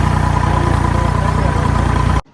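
A tractor engine labours under a heavy load with a loud, steady, low rumbling drone and a throbbing pulse, close by, then cuts off abruptly near the end.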